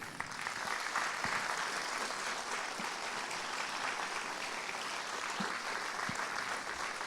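Audience applause at the mayor's New Year wishes ceremony in Carnoux-en-Provence, a dense, sustained clapping from a large crowd in a hall, steady and even throughout with no voices over it.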